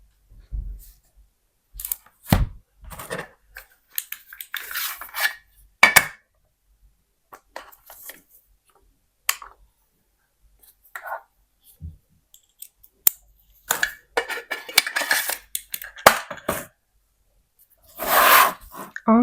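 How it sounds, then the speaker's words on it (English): A small screwdriver works the screws out of a Prestigio tablet during a close-up teardown, making sparse, crisp clicks and scratchy twisting sounds in short bursts separated by near-silence. "Unscrewing the screws."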